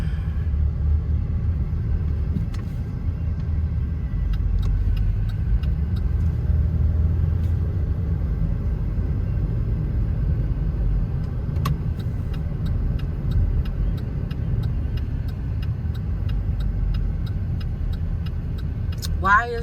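Heavy afternoon road traffic heard from inside a car, a continuous low rumble of engines and tyres with occasional faint clicks and rattles, steady throughout.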